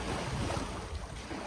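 A sailboat out on open water, with waves rushing and splashing against the hull and wind buffeting the microphone in a continuous, loud roar.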